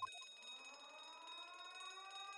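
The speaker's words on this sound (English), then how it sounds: "The alarm's going off." An alarm sounds aboard a ship in The Great Ace Attorney video game, a steady electronic wail that is faint and continuous throughout, with no talk over it.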